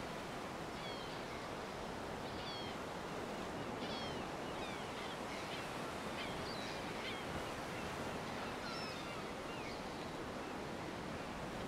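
Ocean swell washes up a sandy beach in a soft, continuous hiss of surf, heard from close by and fairly quiet, with faint bird chirps scattered above it.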